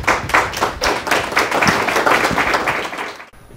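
Lecture audience applauding to welcome speaker Thomas Hofmeier: dense, steady clapping from many hands in a hall, fairly close and loud, holding for about three seconds before cutting off abruptly.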